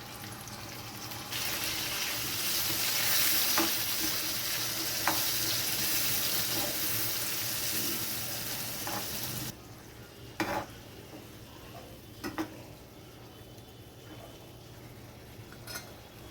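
A spice paste sizzles hard in a hot pan with steady broadband frying noise, then drops to a quieter simmer broken by a few sharp clinks of stirring.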